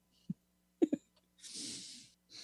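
A voice imitates a raptor sneezing during a tabletop role-playing game, with a few short throaty snorts followed by a breathy hissing burst, all close and fairly quiet.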